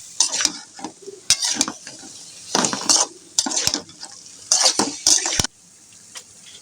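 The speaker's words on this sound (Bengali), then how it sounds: "মশলা দিয়ে মিক্স করে নিচ্ছি" Mixed vegetables with spices being stirred in a pan, in bursts of close scraping and sizzling strokes with short pauses between them, loud and without voices.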